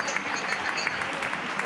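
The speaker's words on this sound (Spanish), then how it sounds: "26º día ya aquí de aplauso solidario" Neighbours in Getxo give a nightly round of solidarity applause for health workers from their homes, a continuous spread of clapping near and far, with a voice speaking over it.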